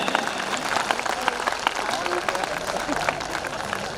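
Applause from an audience at a Hindi comedy poetry gathering in Bhilwara, a steady patter of clapping with crowd murmur filling the whole stretch at moderate loudness.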